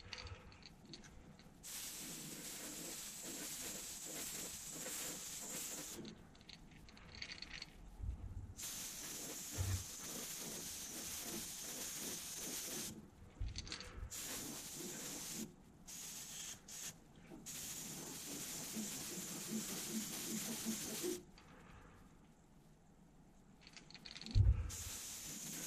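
An airbrush sprays light coats of Createx candy paint over a holographic crankbait lure, soft continuous hissing bursts separated by brief silent gaps, close and fairly quiet.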